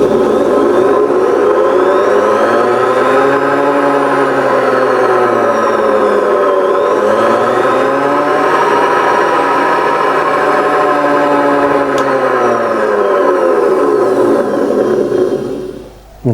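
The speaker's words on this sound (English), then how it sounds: "changed the motor, put a sewing machine motor on it" Faceting machine driven by a sewing machine motor, a close, loud, continuous electric whir with slowly wavering pitch throughout, cutting off abruptly at the end.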